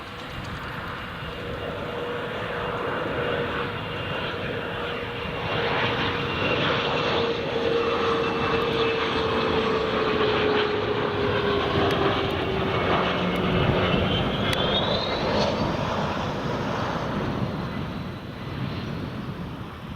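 A jet airliner landing at Newcastle Airport on a warm summer day, its loud steady engine roar sustained throughout with a rising whine near the end, heard from a distance outdoors without talk.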